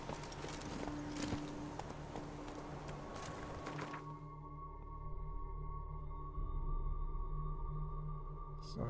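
Horse hooves clip-clopping during riding in the video game The Witcher 3, a rhythmic trotting patter over game ambience that cuts out midway and leaves a low hum with faint tones.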